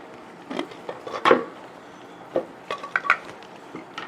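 A film spool set into a plastic developing tank for black and white film: a string of light clicks, clinks and knocks, sharp and close, spaced irregularly with short quiet gaps.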